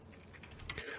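Quiet keyboard typing at a computer, a brief run of soft, rapid key clicks close by with faint background noise.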